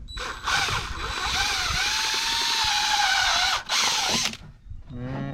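Step drill bit grinding through a plastic bait tank wall: a steady, loud whirring bore held for nearly four seconds, a brief stop, another short burst, then the motor spinning down.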